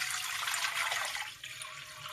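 Water pours into a cooking pot in a brief rushing splash, three glassfuls going in as a close steady stream that tapers off near the end.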